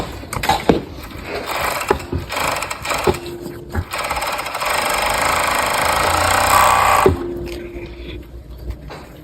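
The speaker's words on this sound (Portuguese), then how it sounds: "refilo na própria overlock." An overlock sewing machine trims jeans fabric in rapid, uneven mechanical bursts, building into a longer continuous run near the end, heard close with no talk.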